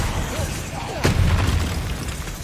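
A Bombarda spell goes off in the Hogwarts Legacy video game as a sudden deep blast, followed by a rumbling tail, with the game's background sound continuing beneath it.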